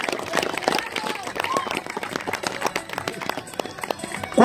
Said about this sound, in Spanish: Un aplauso grande para los muchachos Sicario.